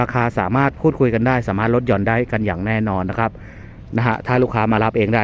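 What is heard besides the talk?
None of the usual background noises is heard.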